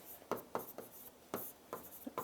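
A hand writes out a chemistry definition, and a pen moves across paper in short, soft scratchy strokes that repeat about every half second, close and quiet.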